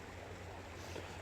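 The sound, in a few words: creek water flowing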